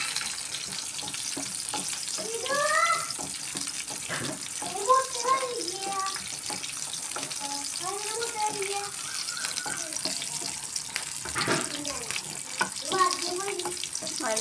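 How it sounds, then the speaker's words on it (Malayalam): Curry leaves, garlic, ginger and green chilli sauté in hot oil in a pan, with a steady sputtering sizzle and occasional crackles throughout. Someone talks over the cooking and birds chirp faintly in the background. "കുറച്ച് കറിവേപ്പില ഇട്ട് കൊടുക്കാം അതൊന്ന് നല്ലോണം വാടിയ ശേഷം വെളുത്തുള്ളി ഇഞ്ചി പച്ചമുളക്"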